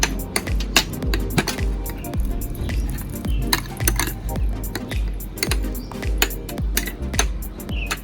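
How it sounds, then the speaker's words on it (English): Ingredients for a homemade vegan face mask, including mint leaves, get stirred in a bowl, with a utensil tapping and clinking against the dish in a fairly regular rhythm close by. "I am just going to mix all these together."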